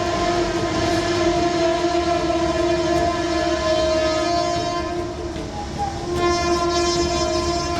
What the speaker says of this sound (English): They drove their train right through the water without slowing down.